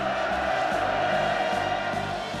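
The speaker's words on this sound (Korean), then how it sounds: "하늘 땅을 진감하는 폭풍 같은 만세 환호성이 터져 올랐습니다" Large crowd cheering and shouting hurrahs at a celebratory visit to a cement works, a dense, sustained roar of many voices that stays loud and continuous throughout.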